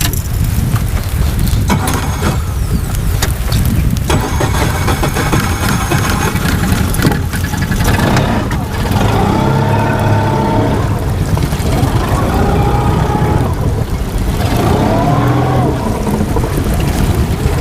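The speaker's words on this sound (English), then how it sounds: "I might have to turn the actual motor on here." Fishing boat outboard motor running at idle on the water, a steady mid-pitched engine drone close by with a few rising revs, continuous throughout.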